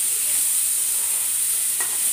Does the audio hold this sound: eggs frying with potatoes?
yes